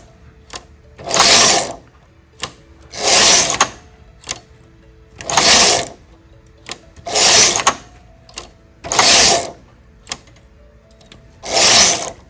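A domestic knitting machine carriage sweeps back and forth across the needle bed, making six loud rasping whooshes at a steady rhythm about every two seconds, with small clicks between passes.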